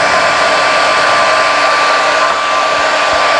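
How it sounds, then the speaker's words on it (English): Hair dryer blows steadily at full power in a classroom demonstration lifting drops of water, a loud continuous rushing whoosh with a faint whine, close and alone. "So here's the hair dryer with the demonstration of the drops of water as they"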